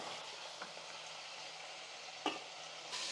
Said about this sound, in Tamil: சிக்கன் வந்து எண்ணெயிலே வந்து நல்லா வதங்கிடுச்சு